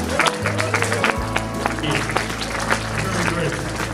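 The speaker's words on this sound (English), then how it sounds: "So please give yourself all a round of applause" Audience members at a Toyota LandCruiser club monthly meeting clap in scattered, uneven bursts, fairly close, over a steady low hum and background voices.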